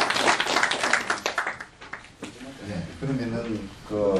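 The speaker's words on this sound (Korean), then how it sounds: "자 우리 격려 박수" A gathering at a completion ceremony for a restored Confucian academy breaks into brief, encouraging applause of scattered close claps that fades after about two seconds, followed by someone speaking.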